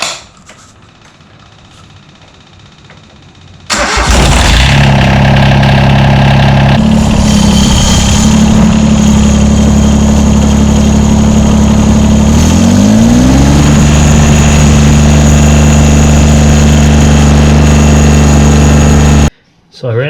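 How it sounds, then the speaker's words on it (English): A John Deere 332 tractor engine cranks and starts after a quiet stretch, then settles into a loud, steady close idle with a slight pitch shift midway before cutting off abruptly near the end. "we can fire this up now."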